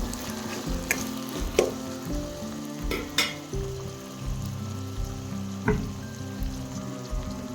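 Tomatoes fry in a pan, mixed with onion, giving a close, steady sizzle. It is punctuated by several sharp utensil knocks and stirring scrapes, while a low tonal hum runs underneath. There is no talking.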